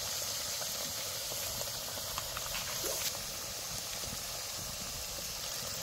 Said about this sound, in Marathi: आता पुऱ्या तळून घेऊया आपण.